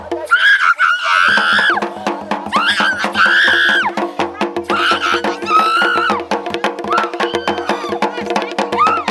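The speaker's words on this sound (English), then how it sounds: "The spirit screams to be let go." A young girl screams during a spirit possession ritual led by a Devta, letting out loud, repeated wailing cries over a dense background with steady rhythmic beats.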